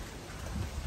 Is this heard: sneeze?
no